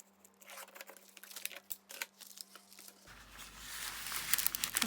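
A junk paper envelope being trimmed and handled: close, crisp paper crinkling, rustling and tearing-like snips that grow denser and louder toward the end.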